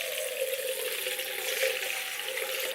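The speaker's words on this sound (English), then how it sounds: "So I'm gonna put a little bit more water in here again." Water pours and splashes over a makeup brush clogged with foundation as it is rinsed, a soft, continuous trickle heard alone without talking.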